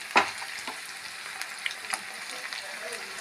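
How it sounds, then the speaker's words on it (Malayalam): Jackfruit fritters frying in oil make a soft, steady bubbling sizzle, broken by a sharp clink at the start and a few light scrapes and taps later, with no voices. "നന്നായി ഫ്രൈ ആവട്ടെ."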